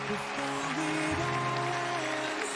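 Audience applause at a stand-up comedy show: dense, steady clapping fills the room throughout, with a few sustained voices or tones ringing over the top.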